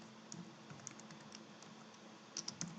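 Keys tapped on a computer keyboard while entering a spreadsheet logical formula, sparse light clicks scattered across the stretch with a quicker cluster near the end, faint over a quiet room hum.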